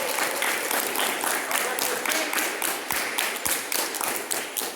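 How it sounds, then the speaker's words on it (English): Audience applause at a school awards day, dense and close clapping that starts at full strength and continues steadily, tapering slightly toward the end, with a couple of low thumps. "So let's give Joseph Clark that applause."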